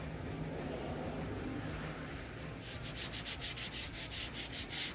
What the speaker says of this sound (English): Did you enjoy that sanding ASMR?